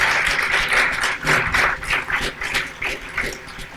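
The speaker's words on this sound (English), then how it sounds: "Give yourselves a round of applause for Shalom Center." A gathered audience gives a loud, sustained round of applause, dense overlapping clapping from many hands filling the room without any speech on top.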